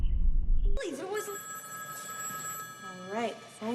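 A telephone bell rings in shrill, warbling bursts after a low rumbling opening, the trilling rings repeating near and clear with a voice speaking around them.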